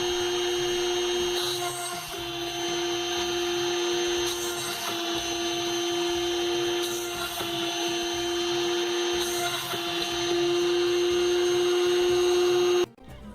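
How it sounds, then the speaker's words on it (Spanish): A handheld rotary tool whines at a steady high pitch while drilling holes in a printed circuit board, with brief dips as the bit bites, close and continuous before cutting off at the end. "Enciende el mototool y asegúrate que esté bien derecho la broca"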